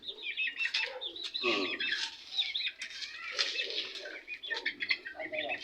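Chickens cluck and chatter nearby while wings flap in short bursts, with a voice calling out now and then.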